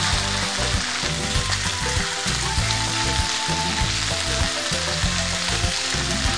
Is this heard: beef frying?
yes